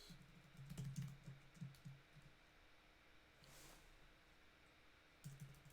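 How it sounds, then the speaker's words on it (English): Computer keyboard typing in quick clusters of soft clicks, close and fairly quiet, with pauses between bursts and a final short flurry at the end, no voices present. "It's a lot of typing."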